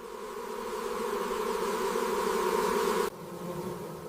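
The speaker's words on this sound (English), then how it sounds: "Hundreds of European honeybees vibrate their flight muscles at once" Hundreds of European honeybees vibrate their flight muscles together, balled around a giant hornet, making a loud, steady, close droning buzz that holds then drops abruptly in level near the end.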